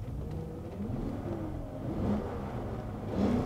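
Porsche Cayenne engine catching on the first crank and settling into a low, steady idle with a couple of light revs, heard close with no talking.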